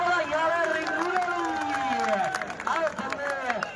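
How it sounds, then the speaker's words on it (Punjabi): Crowd at a volleyball match clapping and cheering, with a voice talking over an amplified sound system in the foreground. "ਇੱਕ ਵਾਰੀ ਤਾੜੀ ਮਾਰੋ"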